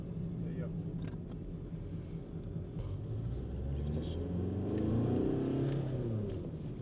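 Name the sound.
car engine running, 2-litre engine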